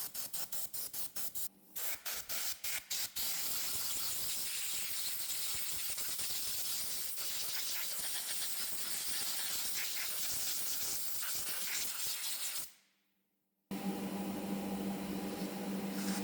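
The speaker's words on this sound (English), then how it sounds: "Now is a good time to blow off any dirt and dust that might be under the flywheel." Compressed air blasts dust and dirt from under the flywheel of a Honda lawn mower engine, a loud, steady rushing hiss preceded by a few short bursts and broken by one brief pause before resuming.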